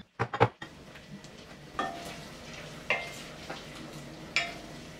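Sliced ginger, garlic and onion sauté in hot oil for a chicken soup. A few loud clatters open the clip, then a steady sizzle runs underneath, broken by intermittent scrapes of stirring.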